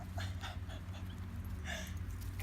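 A puppy pants softly in short, quick breaths close by, with a few faint whimpers and a low background hum.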